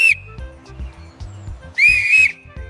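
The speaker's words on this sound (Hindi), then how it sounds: "ये है विसल। इसे हिंदी में सीटी कहते हैं। इससे संकेत देते हैं।" A circus signalling whistle gives two shrill blasts, one short at the start and one longer a moment later. Both sound loud and close, with soft background music underneath.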